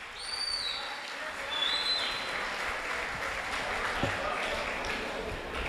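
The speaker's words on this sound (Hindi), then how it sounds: "एक दफा अपने लिए आप लोग भरपूर तालियां बजा दें।" A poetry mehfil audience claps steadily in a dense, even wash of applause that holds at moderate volume from start to finish, while a few faint whistles or tones rise above it.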